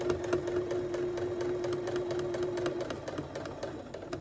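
A sewing machine fitted with a 1/4 inch presser foot stitches a 1/4 inch seam in fabric, close up. Its motor gives a steady, even whir with a constant tone that runs for most of the clip, then eases off near the end.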